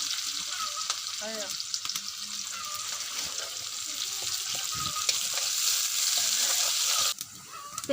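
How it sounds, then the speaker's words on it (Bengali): Onions sizzle and crackle steadily in hot oil for a Bangladeshi saag bhorta, a dense close frying hiss with light stirring clinks throughout. "এখন আমরা তেলটা গরম হয়ে গেলে পেঁয়াজ দিয়ে বাগার দিয়ে দিব"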